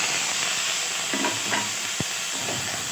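Garlic paste frying in a pan for a chili fish dish with katla fish, a steady close sizzle with a few scraping stirs and one sharp clack of the utensil against the pan.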